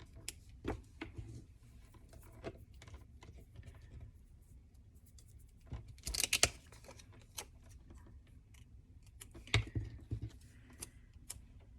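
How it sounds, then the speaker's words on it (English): Scissors trim paper around a sticker in a quiet craft setting, giving soft irregular snips and light clicks with brief pauses between cuts. "just trim around the sticker a little bit so you can't really tell you cut it off"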